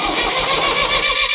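A freshly serviced Mahindra tractor engine cranks and catches close by, a loud, rough, pulsing mechanical rumble lasting about a second and a half.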